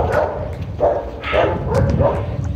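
Dogs barking near a stop along a route taken by bicycle: a series of four or five loud, close barks at irregular intervals, with some yipping between them and no talk.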